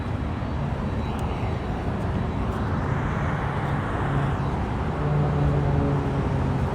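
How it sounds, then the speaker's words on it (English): A Delta Boeing 767-400 jet departing from Los Angeles International Airport, a steady broad roar of jet engines heard from a distance, with a faint droning tone over the continuous rumble. "Here is the Delta 767-400 now, departing to JFK"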